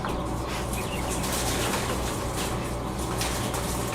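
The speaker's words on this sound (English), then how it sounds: "these are jumbo Coturnix quail" Young jumbo Coturnix quail flap their wings and coo softly amid a steady, dense background hum, the bird sounds faint and scattered throughout.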